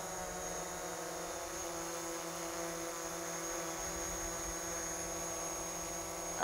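A DJI Mavic Pro drone fitted with low-noise propellers hovers close by, giving a steady high-pitched whirring whine with layered tonal hums, constant and unbroken with no talking.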